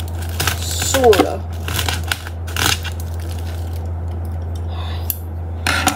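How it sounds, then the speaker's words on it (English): Scissors snip and crunch at a package's plastic and cardboard packaging in several short, close cuts and crinkles, with a brief spoken word partway through. "Now I gotta get my scissors right there. Now you can see me cut."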